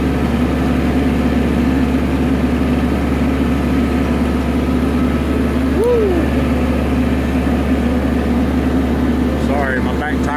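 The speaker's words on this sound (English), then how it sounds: "My tractor won't even pick it up." A tractor engine labours under load while dragging a very large oak log, holding a steady, loud, low rumble throughout, with a brief creak or squeal near the middle and some clatter at the end.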